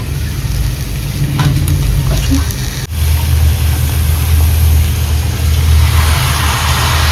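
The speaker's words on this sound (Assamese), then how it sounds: "মজা গাহৰি ফ্ৰাই হৈছে।" Pork fries in a pan with a steady, loud, close sizzle and crackle, broken by one brief knock of a stirring utensil partway through.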